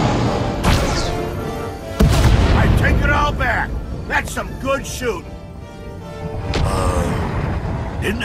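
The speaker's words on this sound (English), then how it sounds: "cannons firing, would ya?" Ship cannons fire in a video game, several heavy booming shots spaced across the stretch, mixed with game voices and effects.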